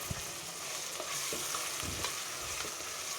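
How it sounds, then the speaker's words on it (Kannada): Ground masala and green peas fry briefly in oil for tomato bath, a low continuous sizzle with a few soft spoon strokes stirring the mixture, fairly quiet and steady, with no talking. "ಅದಕ್ಕೆ ಸ್ವಲ್ಪವೇ ಫ್ರೈ ಮಾಡ್ಕೊಳ್ತಿದ್ದೀನಿ"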